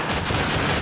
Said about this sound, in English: they are just gonna be filling the air with gunshots